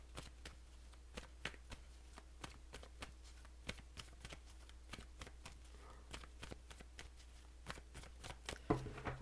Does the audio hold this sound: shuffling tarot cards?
yes